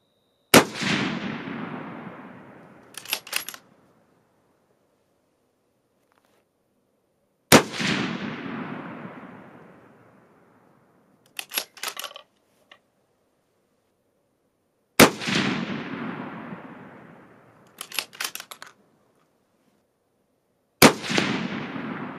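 Four loud rifle shots from a 6.5mm rifle firing Hornady A-Tip 135 grain bullets, spaced about seven seconds apart, each with a sharp crack, long decaying echo and a brief metallic rattle of target or action afterward.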